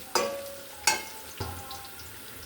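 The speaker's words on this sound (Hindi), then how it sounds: "थोड़े से प्याज सुरख हो गए तो मैं इसमें ज़ीरा डाल दूँगी ज़रा सा" Cumin seeds dropped into onions frying in a pan, giving a few sharp sizzling bursts spaced apart that fade into a low crackle, close and fairly loud, with no talking.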